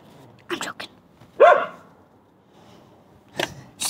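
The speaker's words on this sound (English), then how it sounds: "and hear the dogs bark" Dogs barking a few times in short, separate bursts, fairly close, with quiet gaps between and some talk nearby.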